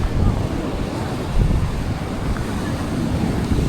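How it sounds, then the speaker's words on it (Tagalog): Large ocean waves surge and roar in a steady, loud wash, with wind buffeting the microphone and a heavier swell breaking around the middle. "Lalaki lang man guys oh, alon."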